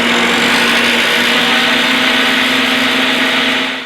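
A table saw motor runs at speed in a woodworking shop, a loud, steady whine with a constant hum that holds close and unbroken before easing slightly at the end.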